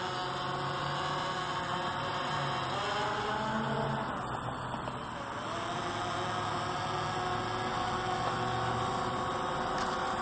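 Hubsan X4 Pro quadcopter fitted with 3DR Solo propellers buzzing steadily in flight, a dense continuous whine with slowly shifting harmonic tones that dip briefly midway, fairly close and alone.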